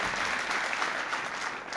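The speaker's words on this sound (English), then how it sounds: "I see the nurses clapping there." Nurses applauding at a bill-signing ceremony make a steady burst of clapping that runs through the whole moment, fairly close and even in level.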